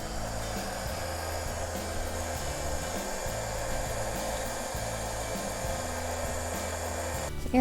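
A heat embossing tool blows a steady, loud, even whir across a freshly stamped card, running unbroken from start to finish with no talking.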